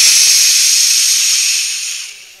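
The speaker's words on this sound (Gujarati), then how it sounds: "શું થયું સીટી વાગી ગઈ કોની કુકરની" A pressure cooker on a gas stove venting through its whistle: one loud, close, continuous rushing hiss of steam that holds steady, then tapers off after about two seconds, with no speech.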